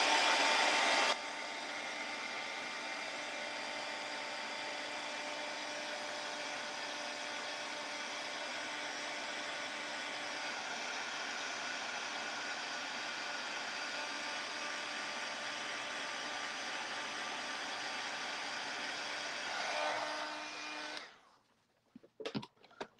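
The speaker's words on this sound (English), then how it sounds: "And let's give that a dry." A hair dryer blows steadily on a fresh glossy paint finish, a loud continuous airy whir that holds for about twenty seconds before switching off and leaving near silence with a few small handling knocks.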